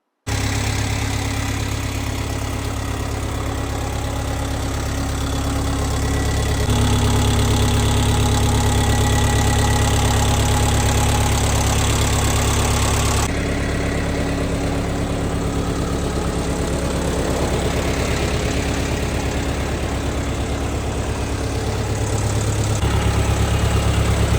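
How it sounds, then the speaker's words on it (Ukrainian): Four-cylinder Lovol 354 tractor engine idling steadily, a loud close diesel drone with an even low rumble that shifts slightly in pitch partway through and continues alone without speech throughout. "Демонструю роботи двигуна та світлових приладів"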